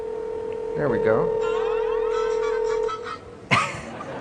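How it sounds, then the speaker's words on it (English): A phone plays an electronic ringtone with steady tones and a short melodic trill, followed by a quick burst of noise at the end. "Nice ringtone."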